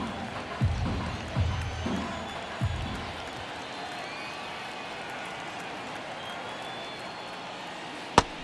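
Crowd noise from the MLB The Show baseball video game during a Phillies vs Mets game: a steady stadium murmur with a few short swells of cheering early on and one sharp crack near the end.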